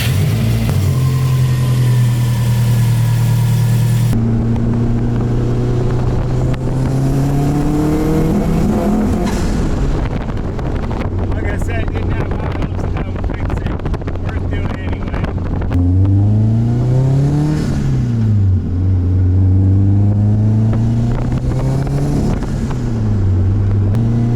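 A 1990s car engine idles with a steady low hum and then revs several times, the pitch sweeping up and falling back, loud and close, with some talking in the background.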